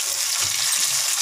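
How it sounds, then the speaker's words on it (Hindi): Cauliflower pieces frying in hot oil, giving a steady, close, hissing sizzle that stays loud and even throughout, with no voices. "देखिए गोभी अब उधम मचाना शुरू कर रही है तेल में जाकर।"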